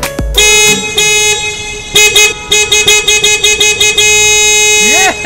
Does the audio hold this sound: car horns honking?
yes